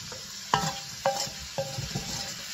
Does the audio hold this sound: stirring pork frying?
yes